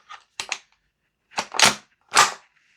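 A VFC G36C V2 gas blowback airsoft rifle, Umarex-licensed, dry fired: sharp mechanical clacks, two quick close pairs followed by two louder single snaps, crisp and near with silence between.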